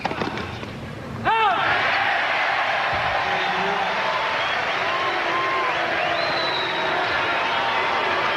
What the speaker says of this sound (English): Some booing going on now in support of Agassi.